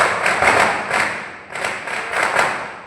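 Diwali firecrackers burst during a Lakshmi Puja night celebration, a dense run of sharp cracks and thuds that rise and fall in two loud waves, nearby and continuous, with no voices.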